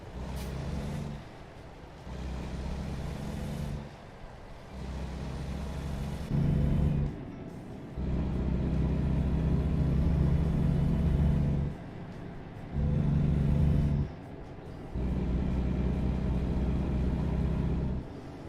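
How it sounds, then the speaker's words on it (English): A modded truck engine in American Truck Simulator rumbles loudly and steadily, surging in repeated revving bursts separated by brief drops, like gear shifts. "Dang, this truck is loud."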